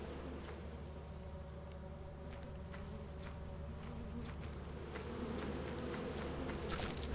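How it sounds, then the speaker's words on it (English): A steady, droning buzz of bees from a beehive in the video game Lethal Company, continuous and fairly loud throughout with faint clicks and steps underneath. "So we're gonna be hearing bees for a bit."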